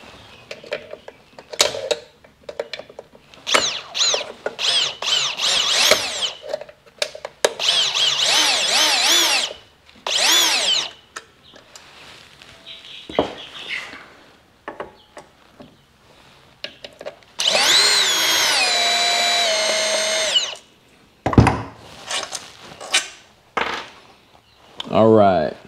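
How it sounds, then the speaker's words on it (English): Cordless drill driving long screws into a Pride Mobility ZT10 mobility scooter during a controller and motor swap, heard as several loud, close bursts of whirring that stop and start, with a steady high-pitched run near the end and talk between bursts. "Now for this job, you can use a drill. Just make sure you torque it down."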